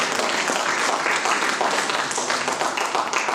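A church congregation at a women's convention bursts into dense, continuous applause, many hands clapping loudly and close together throughout, with faint voices mixed in.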